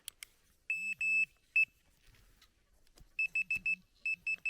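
A metal detector probing a pit gives electronic beeping in short bursts: a pair of long tones, a single short one, then quick repeated chirps, loud and close with quiet gaps between.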